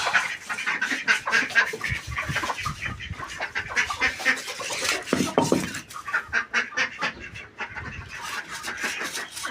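Chicks and poultry freed from their coop, a busy jumble of close peeping, clucking and honking calls in irregular bursts, with brief rustling and movement between them.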